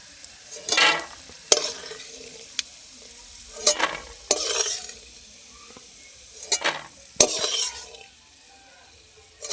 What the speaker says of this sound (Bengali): বাদামটা আমি ভাজা ভাজা করে নিচ্ছি